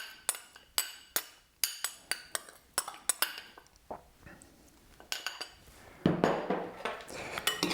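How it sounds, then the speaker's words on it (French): Utensil clinking against a bowl while mixing a spicy carrot and cashew salad with its sauce, a series of sharp rhythmic clinks and taps, close and clear, ending with a rougher stirring rustle. "Et je mélange."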